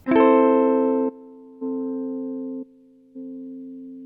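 A sustained guitar tone through a BOSS SL-2 Slicer pedal is chopped into three separate pulses, each cutting off abruptly before the next, giving a choppy, gated on-off pattern.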